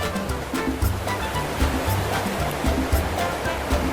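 A river at the Nepal border rushes loudly and continuously near at hand, a dense churning wash of flowing water with no voices over it.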